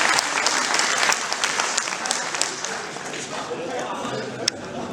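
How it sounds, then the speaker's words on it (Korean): A group at a 2014 Buddhist fellowship retreat claps and cheers together in steady, dense applause that holds for the full stretch, with a sharp single clap standing out near the end. "박수 부탁합니다"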